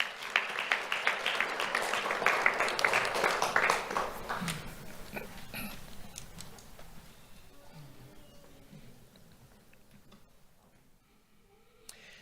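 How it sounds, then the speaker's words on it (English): An audience applauds at a sheriff's office Do The Right Thing awards ceremony. The clapping starts as a dense, close burst, then thins out and fades to scattered claps over several seconds. "Let's have a round of applause for Macy Hoffman"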